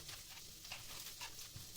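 Crushed or chopped garlic cloves sauté in a pan while pasta is prepared, giving a faint, steady sizzle with light crackles and soft stirring scrapes.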